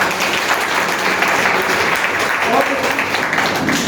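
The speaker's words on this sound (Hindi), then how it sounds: "तो एक बार तालियां बजा सकते हैं" A crowd at a new year 2024 celebration gathering applauds in a steady, dense wash of clapping, with faint voices mixed in underneath.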